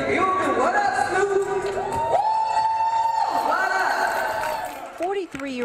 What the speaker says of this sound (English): Clarence Aaron was greeted by hugs and applause from family and others at LaFleur High School today